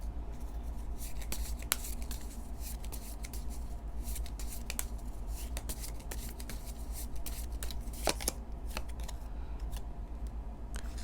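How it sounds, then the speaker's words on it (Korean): Tarot cards are shuffled and drawn by hand, giving soft, close riffling and sliding rustles with occasional sharper flicks at a quiet level. "조언 카드 뽑아볼게요."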